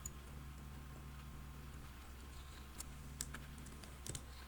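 Quiet typing on a computer keyboard, a light stream of soft key clicks with a few sharper taps, against a low steady hum.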